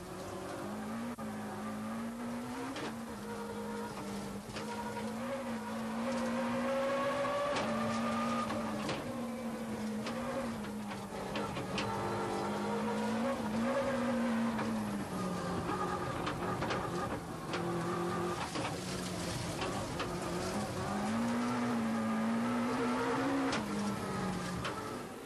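A BMW 318 rally car driven hard, engine revving continuously and wavering up and down through gears for a long stretch, with intermittent tire scrubbing and skids, loud and close.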